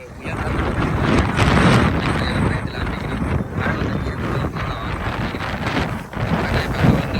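Strong wind blows hard at the seashore, buffeting the microphone in a loud, continuous rumbling roar with gusty surges, and a voice is faintly mixed in.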